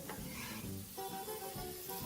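Onions fry in oil in a pot for traditional Kenyan muthokoi, giving a steady, close sizzle with soft stirring scrapes and no talking.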